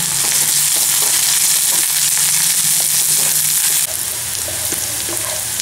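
Onions frying in a pan and being stirred, made as part of a drumstick fry. A steady, loud sizzle runs throughout, with scraping stir strokes and small pops. Near the end the hiss drops slightly in level.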